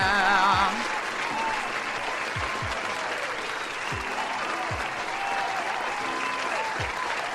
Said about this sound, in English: Abnormally long applause